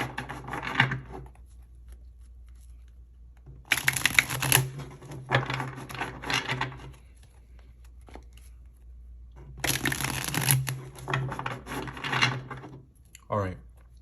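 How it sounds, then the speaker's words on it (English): Tarot cards being shuffled by hand in two separate bursts of dense papery riffling and tapping, close and fairly loud, with quiet pauses in between. "let's get a couple more shuffles"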